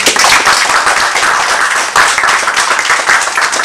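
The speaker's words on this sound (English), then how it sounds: "let us once again welcome DTM Murad with a big round of applause" Loud, dense applause from a crowd, steady clapping that fills the whole moment with no voices over it.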